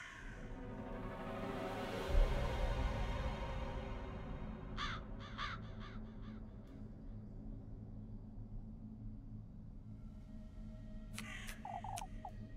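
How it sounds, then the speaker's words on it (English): Crow cawing in the video game Little Goody Two Shoes, a few short harsh calls rising out of a low, steady ambient game backdrop, with a brighter cluster of sounds near the end. "That crow, it's gone."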